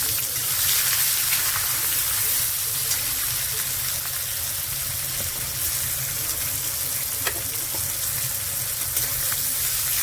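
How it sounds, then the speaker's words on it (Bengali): Chopped onions frying in hot oil in a pan, a dense continuous sizzle and hiss at fairly high level, steady throughout with a few faint clicks. "পেঁয়াজটাকে একটু ভেজে নেবো ভালো করে।"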